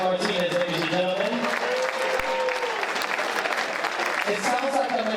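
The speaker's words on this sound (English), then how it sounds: "give a round of applause for Ariel Martinez, ladies and gentlemen" Loud, steady applause from a standing audience at a charity boxing match, sustained throughout and honouring a veteran, with an announcer's voice and crowd chatter layered over the clapping.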